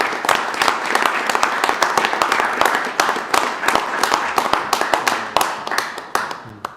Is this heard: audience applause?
yes